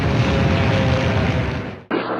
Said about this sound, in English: You can probably hear the noise of the shelling in the planes overhead as they drop their bombs